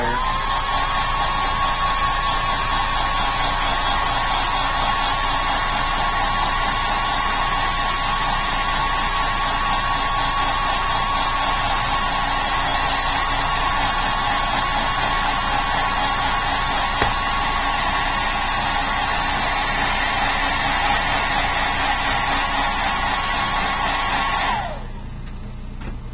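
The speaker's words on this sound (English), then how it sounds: "I'm going to hit it with a hairdryer." A hair dryer blows steadily and loudly to dry sealant on a Batman figure, a constant whirring rush that holds unchanged for most of the stretch before cutting out abruptly near the end.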